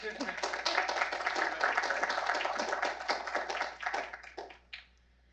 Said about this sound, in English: And give him a round of applause.